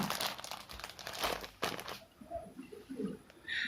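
A Supplyco plastic packet of chickpeas from a Kerala free ration kit crinkles and rustles up close in short handling bursts, then quiets to faint rustles and small taps.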